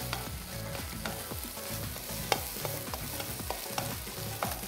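Egg for egg fried rice is stir-fried in a pan with a steady sizzle and rhythmic spatula scrapes, heard close over a low musical background.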